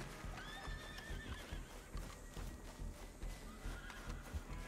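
Red Dead Online horse giving a high whinny near the start, with steady hoofbeats clopping on through the rest, close and clear over a low game ambience.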